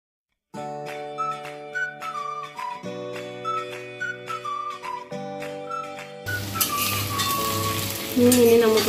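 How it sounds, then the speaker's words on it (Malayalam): Fish frying in coconut oil in a hot cheenachatti pan on a stove for a Kerala dish, a steady loud sizzle rising in intensity, mixed with bright tonal background music throughout. "മീൻ വറക്കാൻ ചീനിച്ചട്ടി അടുപ്പിൽ വെച്ച് ചൂടായതിലേക്ക് കുറച്ച് വെളിച്ചെണ്ണ ഒഴിച്ചു"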